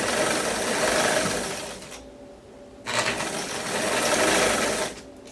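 A sewing machine stitches a jumpsuit seam in two steady, loud runs separated by a short pause, the needle's rapid mechanical whir close and alone.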